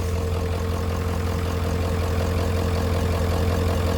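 An old truck engine idles steadily once warmed up, a constant low rumble with a deep throb that carries on evenly without a break. No one speaks over it.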